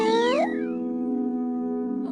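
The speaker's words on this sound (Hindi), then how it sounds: "अरे ये तो वही बिल्ली है।" Cartoon cat meowing in a Hindi-dubbed Doraemon episode: one loud, close, drawn-out meow that rises then falls, trailing into a sustained tonal hold with no talking.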